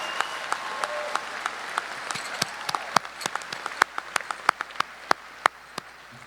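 Scattered, sharp handclaps from a small audience at a 2020 high school graduation ceremony held under COVID-19 restrictions; the claps start sparse and grow slightly denser, with no clear cheering.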